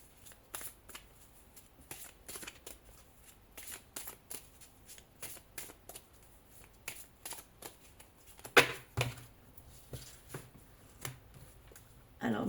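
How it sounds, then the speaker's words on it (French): Tarot cards are shuffled by hand at close range in repeated riffling, flicking bursts with short gaps, quiet overall and with one louder snap near the end. "Je vais remélanger."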